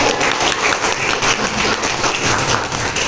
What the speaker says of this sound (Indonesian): kita beri tepuk tangan untuk pelajaran kita